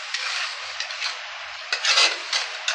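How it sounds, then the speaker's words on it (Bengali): Spice masala sautés in a pan over low heat, a soft crackling sizzle broken by scraping stirs and a few metallic clinks of the spatula, close and without talk. "আঁচটা একটু স্লো করে দিলাম, একটু কষিয়ে নিচ্ছি।"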